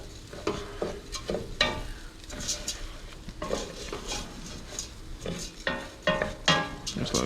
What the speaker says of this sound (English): Now here's where we're gonna start constantly stirring this, okay?